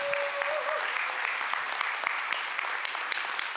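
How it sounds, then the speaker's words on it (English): Conference audience applauding at AxonIQ Con 23, a continuous crackling sheet of many hands clapping at even loudness, with a faint tone and a murmur of voices underneath. "Well, you get applause, right?"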